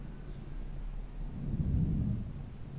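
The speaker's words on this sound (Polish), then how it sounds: "Dalej, słuchajcie, grzmi." Distant thunder during a summer storm, a low, rolling rumble that swells and fades over a few seconds against a quiet outdoor background.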